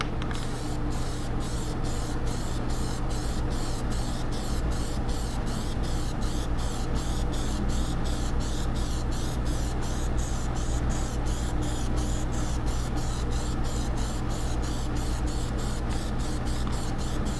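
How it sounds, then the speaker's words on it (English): Gunmetal gray Plasti Dip sprays steadily from an aerosol can in a first coat, a continuous close hiss with a faint rhythmic flutter, unbroken for about seventeen seconds. "we're going to do our first coat of the gunmetal"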